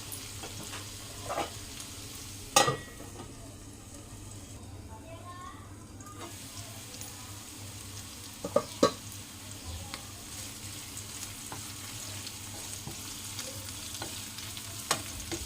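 Bitter gourd fries in hot oil with a steady, close sizzle throughout while a spatula stirs it, adding occasional sharp scrapes and knocks against the pan.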